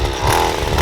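String trimmer runs at high speed while cutting grass, a loud, close, buzzing engine whine with rough clattering texture throughout the brief moment.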